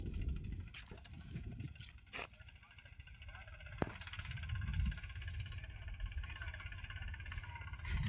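A tractor engine runs at a steady low idle on a farm where buffaloes and cows are being herded home, a continuous rumble with some nearby talk over it.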